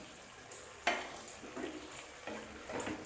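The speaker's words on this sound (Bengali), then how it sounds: "দিয়ে আমি ভালো করে মিশিয়ে নিচ্ছি" Spinach and pea curry stirred in a pan after adding garam masala and kasuri methi, a soft scraping spoon with a few light knocks against the pan over faint sizzling, fairly quiet and close.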